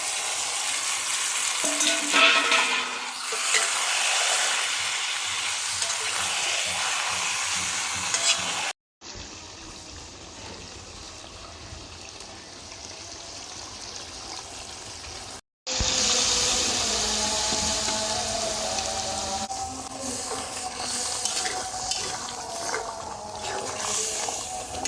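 Yogurt-marinated meat frying in hot spiced oil makes a loud, continuous sizzle with stirring scrapes. It cuts out briefly twice, then returns just as strong, with no voices.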